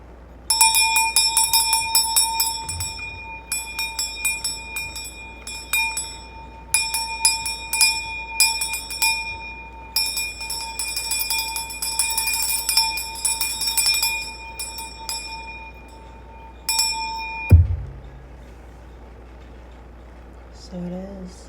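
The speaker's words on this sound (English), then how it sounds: "let's do a cleanse with my mother Oshun's bell" A small hand bell for Oshun rings rapidly in repeated bursts during a spiritual cleanse, bright and close, with brief pauses between shakes, then a thump and quiet talk afterward.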